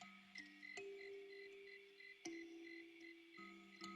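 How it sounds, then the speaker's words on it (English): Crickets and frog-like croaks on a meditation music track, with sustained tonal notes shifting in pitch and sharp chirps scattered over a quiet background. "Listening to the crickets,"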